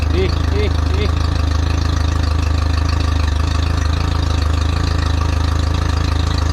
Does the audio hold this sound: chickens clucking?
no